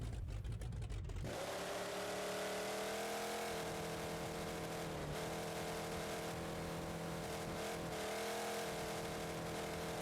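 A car engine in BeamNG.Drive with a 0.5 minimum gear ratio, throttle held open so the revs climb and then hold at one steady, loud droning pitch.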